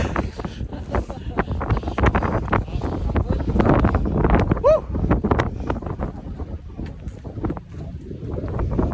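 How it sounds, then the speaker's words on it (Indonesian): Strong wind buffets the microphone on a hike up Mount Slamet along the Bambangan trail, gusting close and rough while people talk and shout over it. "Anginnya kencang"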